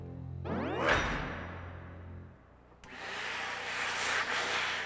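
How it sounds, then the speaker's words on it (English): A loud XLERATOR electric hand dryer roars steadily, briefly dipping and then surging back to full airflow; no voices. "drying hands 3 times faster than the standard dryer"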